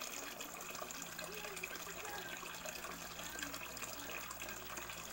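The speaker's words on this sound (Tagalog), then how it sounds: "Nandito na ako sa lababo. Babanlawan ko na ang aking buhok." Water runs steadily from a sink faucet while hair is rinsed under it: a continuous hiss and splash, fairly close, with faint talk underneath.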